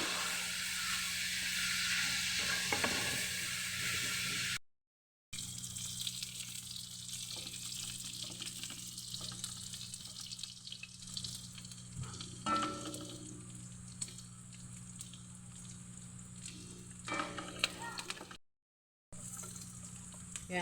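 Pork sizzles and spits in a hot pan, a steady bright crackle that runs throughout, broken by two brief dropouts, with faint clinks of stirring and no talking.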